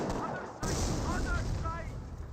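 A mortar or rifle grenade explosion in Company of Heroes, one sharp blast followed by rumbling battle noise, under someone talking.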